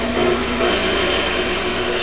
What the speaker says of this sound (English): The mixer now is making a soft dough.